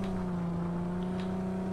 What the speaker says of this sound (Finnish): Auto pitää aika kovaa mörinä